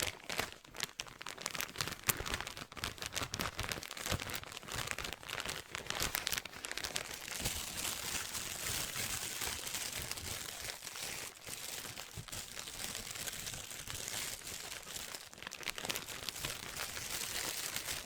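A plastic bag crinkled and crumpled close up for ASMR, a steady run of crisp rustling and crackling for the full length with no talking.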